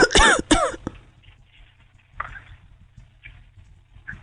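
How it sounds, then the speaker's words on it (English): Two sharp, close coughs in quick succession, followed by quieter faint shuffling noises over a low hum. "Why are you coughing?"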